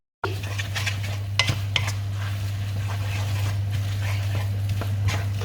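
Flat rice noodles with dark soy sauce stir-fried in a pan, a constant loud sizzle under repeated metallic scrapes and clanks of a spatula against the pan.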